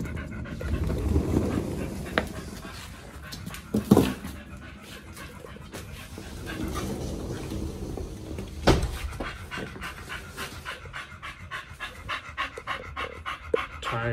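A happy dog pants steadily and close, rapid rhythmic breaths running throughout, broken by a few soft whimpers and small thumps of movement.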